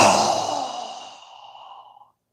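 One strong exhale during a yoga breathing exercise, close and breathy, strongest at first and tapering off over about two seconds into silence.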